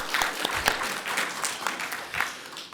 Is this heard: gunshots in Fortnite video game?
no